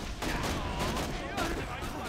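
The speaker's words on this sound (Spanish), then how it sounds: "Gasta 3 balas, sí, 3 balas por disparo." Rapid bursts of gunfire from a weapon in Borderlands 2 on PS3, firing three rounds per shot, loud and close in repeated clusters with busy game sound around them.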